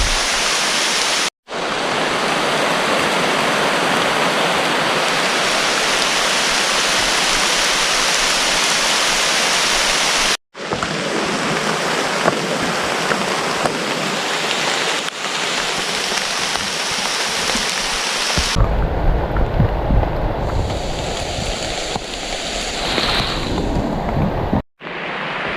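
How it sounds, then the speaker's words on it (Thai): Heavy rain pours steadily in a mountain forest on a ridge, a dense, loud hiss with a couple of brief breaks, shifting in tone near the end. "บรรยากาศที่นี่ฝนตกหนักเลยครับ"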